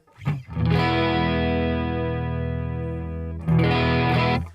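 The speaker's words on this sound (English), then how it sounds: "A really nice shimmery sound there." A guitar played through a NUX Mini Core shimmer pedal rings out in a sustained, bright, thick chord that swells and holds, then a second chord is struck. The effect is loud and close with no talking.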